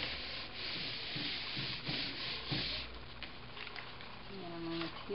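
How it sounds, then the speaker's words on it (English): Paper rubbed carefully by hand to transfer an elementary print, a soft steady scraping with a few stronger strokes, close and fairly quiet, with some faint background voice. "I'm going to rub very carefully."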